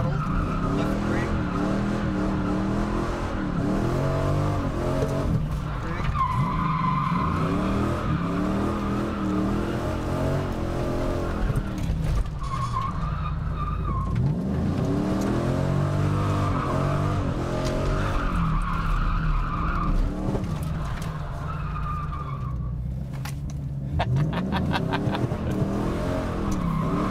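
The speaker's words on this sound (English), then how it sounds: "So e-brake there. Yeah. Left foot brake. Yeah. E-brake. Throttle. Left foot brake." Car skidding through stunt-driving maneuvers with e-brake pulls and throttle: sustained loud tire squeal and engine revving over a long stretch, rising and falling in waves, with faint voices underneath.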